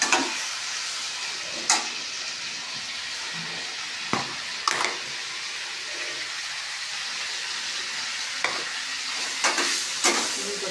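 Bengali egg curry (dim kosha) sautéing in a pan: a continuous close sizzle with repeated scraping stirs and sharp spatula clacks against the pan every second or two, no voices.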